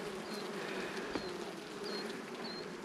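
Honey bees buzz in an open backyard hive, a dense, continuous hum close by with a few individual bees whining past.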